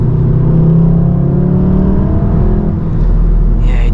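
A Volkswagen Golf R MK7 heard from inside while driving: a steady, fairly loud engine drone with a low whir and rumble, its pitch easing slightly, then a brief higher noise near the end.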